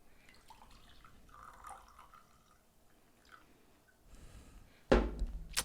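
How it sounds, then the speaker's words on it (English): Small drips and clinks, then batch brew coffee pours with a loud, bubbly rush into a paper cup near the end, close by. "let's pour some batch brew."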